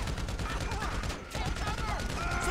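Rapid bursts of gunfire from a GTA 5 shootout rattle almost continuously at high volume, with a voice chattering excitedly over the shots.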